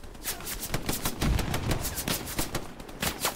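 Bursts of machine-gun fire crack in rapid, uneven volleys in the World War II shooter Hell Let Loose, sharp repeated reports coming from several directions at close to medium range, with no talking over them.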